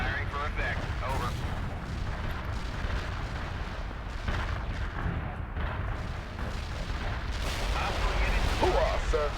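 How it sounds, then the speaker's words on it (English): An artillery barrage in the World in Conflict video game: heavy continuous rumbling blasts and booms fill the whole stretch, loud and dense, with radio-style voices talking over the bombardment. "Artillery barrage hit for full effect."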